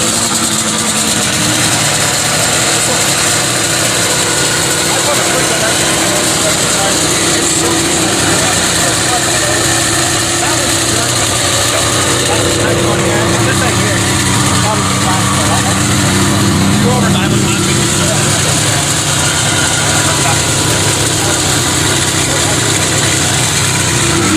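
Vintage snowmobile engine idling after being started outdoors, a continuous loud mechanical rumble with steady vibration, with people talking over it throughout.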